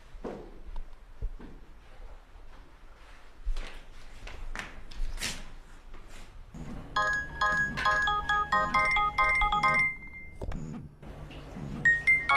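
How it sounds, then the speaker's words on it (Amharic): A telephone rings indoors with a repeating electronic tone, clear and fairly close, in a scene from an old Amharic film, preceded by rustling movement and soft background sounds. "ስልክ እየጠራ ነው፣ አይሰማህም?"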